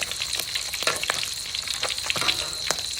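Onions, chilli and chopped garlic fry in a pan for fish bhuna, making a continuous close sizzle broken by repeated spatula scrapes and taps.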